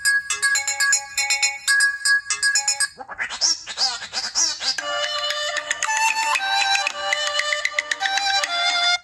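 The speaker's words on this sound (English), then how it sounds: "we can instead use the ringtones as a sample" A loud electronic ringtone from a 2011 Pantech Breakout phone at max volume plays continuously, bright melodic tones repeating in a quick pattern with a brief swooping passage midway.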